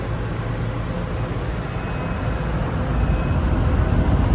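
Car wash blower drying a Mercedes-Benz G Wagon, a loud steady broadband roar of rushing air that swells slightly toward the end, close and continuous with no talk.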